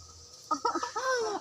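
Crows call in a series of harsh, close caws that start about halfway through, coming one after another and overlapping near the end, against a quiet background.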